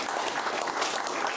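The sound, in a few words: studio audience applause for a guest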